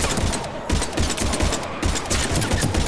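Rapid automatic gunfire in a war video game, loud and dense, with bursts of shots rattling continuously in a chaotic battle.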